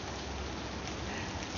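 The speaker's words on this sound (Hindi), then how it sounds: "और ये ज़ोरदार बारिश" Constant heavy rainfall, an even wash of patter and hiss with no breaks, moderately quiet and steady throughout.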